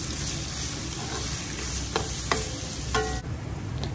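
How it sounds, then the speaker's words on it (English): Green chili and finely chopped ginger sauteing in hot oil for a potato masala, a steady close sizzle with a few sharp pops and stirring clinks, no voices. "add 2 inch of ginger finely chopped and saute it for a minute till the raw smell leaves"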